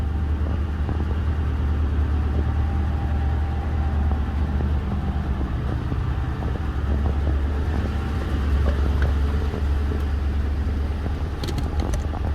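The engine of a 2011 Ford Crown Victoria ex-police car from Chesterfield PD idles with a steady, loud, low rumble throughout, close up, with faint metallic ticks near the end and no talk.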